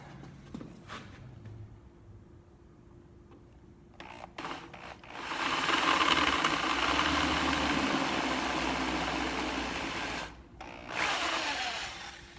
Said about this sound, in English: So I've got my annular cutter here